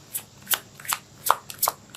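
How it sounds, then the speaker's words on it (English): Tarot cards riffled and pulled by hand in several quick crisp bursts about every half second, close and clear with no talking. "let's pull out a physical card for you here"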